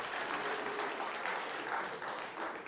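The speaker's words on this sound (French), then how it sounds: "on peut l'applaudir" Attendees at an agricultural innovation contest forum clap for a participant, a fairly soft, even patter of applause from a modest crowd, sustained through the whole short stretch.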